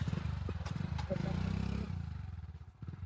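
A motorbike being ridden, its engine giving a steady low drone with rising revs up close, mixed with clatter and voices talking over it.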